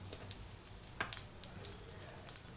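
Cumin seeds and asafoetida sizzling in two tablespoons of hot oil in a home kitchen, a quiet crackling fry with scattered sharp pops and spits over a soft hiss.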